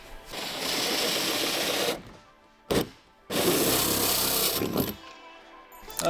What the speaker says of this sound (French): on vient faire un trou dans l'habillage pour faire passer les câbles et les tuyaux d'arrivée d'eau